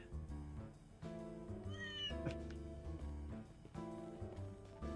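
A cat meows in the video game Trails Through Daybreak 2, one short rising-and-falling meow heard midway over a steady, melodic background music track.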